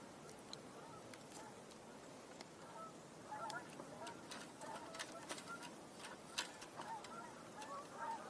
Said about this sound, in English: hear Canada geese.